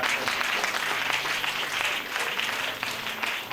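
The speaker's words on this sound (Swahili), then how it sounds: "jipigie makofi mwenyewe" Steady applause from a church congregation at a Sunday service, dense and continuous clapping filling the room at close range with no pauses.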